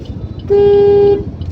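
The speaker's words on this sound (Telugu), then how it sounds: "హార్న్ కొట్టండి" A car horn during a driving lesson gives one steady, loud honk lasting about two-thirds of a second over a low engine rumble inside the car.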